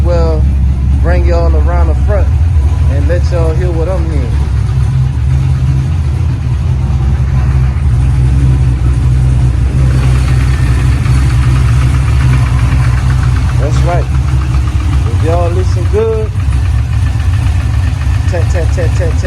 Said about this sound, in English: It sound like a rod knock to me